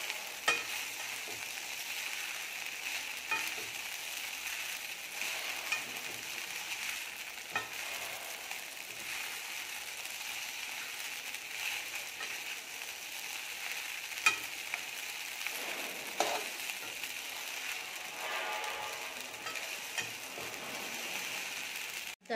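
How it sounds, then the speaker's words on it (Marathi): Sabudana khichdi stirred in a pan: a soft, even frying hiss runs throughout, with faint scraping of the spoon now and then, quiet and close with no talk. "साबुदाणा चांगला मिक्स करायचा आहे"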